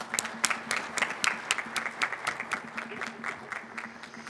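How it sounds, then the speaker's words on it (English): An audience applauds nursing faculty at a college stethoscope and commitment ceremony, a moderate, even patter of many hands with a low steady hum underneath. "Let's give them a round of applause."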